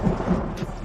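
A thunderstorm sound effect rumbles low and heavy with a steady wash of rain, loud and continuous for a moment without any voices.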